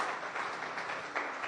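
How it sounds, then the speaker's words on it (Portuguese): A church congregation applauds to welcome visitors, a dense, fairly distant wash of clapping that holds steady throughout. "Vamos recebê-los então com aquela salva de palmas?"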